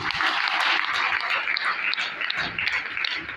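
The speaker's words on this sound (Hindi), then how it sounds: "मैं चाहूंगा उनके सम्मान में जोरदार ताली बजाइए" Applause from an event audience in honour of the leaders, a dense, steady wash of many hands clapping at close range. It holds fairly level throughout with no talk over it.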